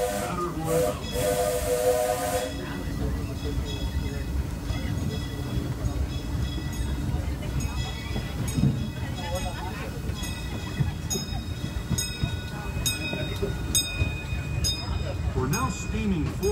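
Disneyland steam train pulling away from Toontown Depot toward Tomorrowland, with a loud steam whistle blast, hissing steam and steady chugging, rolling rail rumble as it moves along.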